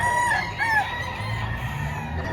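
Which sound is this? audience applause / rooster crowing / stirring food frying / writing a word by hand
rooster crowing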